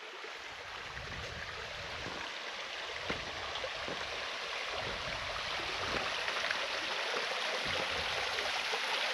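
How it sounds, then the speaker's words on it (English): Small waterfall along a lake trail, a steady broadband rush of falling water running continuously at moderate distance, with faint scattered thumps and rustles over it. "Even a cool little waterfall thing down there."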